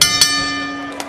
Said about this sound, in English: Once the bell sounds, your referee is Richard Flaherty.